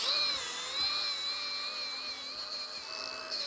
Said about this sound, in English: I used my drill and carefully drilled them out